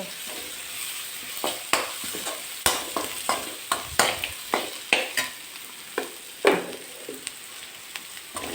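Ingredients sautéing for a sardine curry with kudampuli, a low steady sizzle broken by repeated sharp ladle clinks and scrapes against the pan at an uneven rhythm, with no speech.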